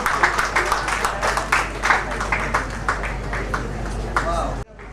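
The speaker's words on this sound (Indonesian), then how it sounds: "Kita beri tepuk tangan." An audience at an Indonesian installation ceremony claps steadily in a busy room, loud and sustained applause, overlaid by chatter, before it cuts off abruptly.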